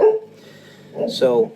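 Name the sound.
dogs barking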